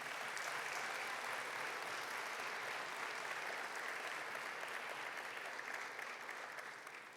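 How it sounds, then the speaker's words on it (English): At the 2025 Roanoke College Sports Hall of Fame induction ceremony, the audience gives the inductees another round of applause, a continuous even wash of clapping that stays fairly faint and tapers off slightly near the end. "Let's give our inductees another round of applause."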